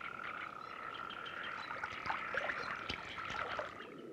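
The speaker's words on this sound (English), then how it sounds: "Frogs are among the few amphibians in the coniferous forest." Frogs croak in a chorus at a pond in a coniferous forest, a sustained trilling drone with overlapping calls at moderate distance, alongside faint trickling water.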